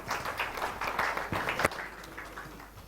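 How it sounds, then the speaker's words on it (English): Audience applause at an education conference session, a dense patter of clapping across the whole stretch that gradually thins out toward the end. "A big round of applause, please."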